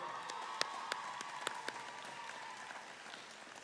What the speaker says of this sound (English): So why don't we turn and give them a round of applause for all their work and effort and support.